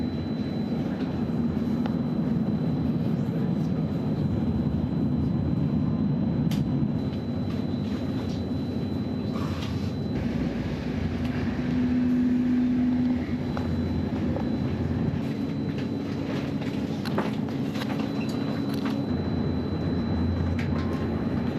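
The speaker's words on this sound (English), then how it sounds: "significance of this train, Shannon, is I used to take this train quite a bit in the 90s" Continuous low rumble and rattle of a moving train between Munich and Brescia heard from inside the carriage, steady and droning with occasional clicks and faint squeals.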